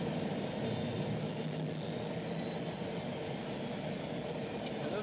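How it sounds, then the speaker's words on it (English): Steady low rumble of a train engine with grinding rail noise in a train-driving video game, continuous and moderately loud, no voices. "We'll just pull this train away ever so slightly so that we are formally detached"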